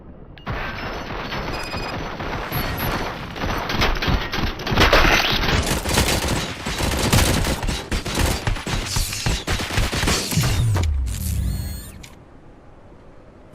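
Sustained gunfire fills a Robocop Rogue City video game battle: dense, loud volleys of shots and bursts rattle without pause for about ten seconds, then cut off abruptly, leaving a low rumble.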